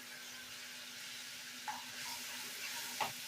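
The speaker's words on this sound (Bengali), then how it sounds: "দিয়ে ভালো করে কষিয়ে নিতে হবে" Mustard paste with turmeric and salt fries in a pan for a bitter puti fish dish with bitter gourd leaves, a faint, steady sizzle broken by a couple of soft stirring scrapes.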